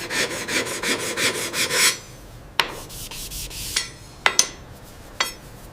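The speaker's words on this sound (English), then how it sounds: "precisely mark the center line with the soapstone" Rapid scratchy rubbing strokes of soapstone marking a center line on a steel katana blade, followed by quieter pauses broken by a few short sharp scrapes and taps.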